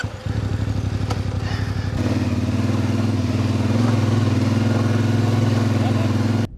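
A motorcycle ridden through the Moroccan desert, its engine running at a steady, loud idle-like drone that starts with a rhythmic thumping and then settles into a continuous hum, heard up close.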